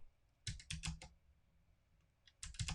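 Computer keyboard typing up close, two quick bursts of key clicks separated by a short pause, quiet and alone.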